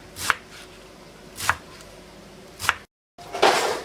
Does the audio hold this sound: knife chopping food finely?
yes